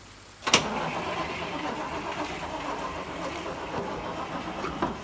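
A 1965 Buick Wildcat engine with a weak, discharged battery cranks and catches, then settles into a steady, slightly uneven idle close by.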